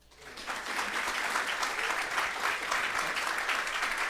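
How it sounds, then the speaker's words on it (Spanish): Students at a preparatory school assembly break into applause for a guest speaker, the dense clapping swelling within the first half second and then holding steady and full, with no talk over it. "Démosle un fuerte aplauso."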